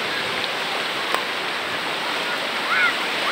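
Rushing river current on the rocky Majayjay river in Laguna, a steady broadband roar of flowing water filling the whole stretch without letup, close and constant, with a faint voice briefly near the end.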